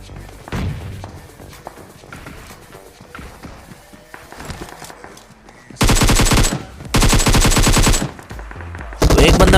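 Automatic gunfire in a battle royale video game, with sustained loud bursts of rapid shots in the second half, separated by short pauses, after quieter footsteps and scattered distant shots.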